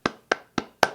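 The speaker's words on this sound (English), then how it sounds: "And what you clapping about?" Four sharp hand claps, evenly spaced and close by, each a crisp slap with a short tail, with nothing else heard.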